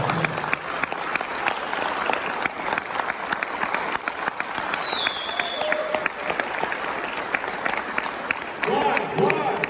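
A large audience at a motivational talk claps in loud, dense applause that fills the whole stretch, with some cheering and crowd noise mixed in near the end.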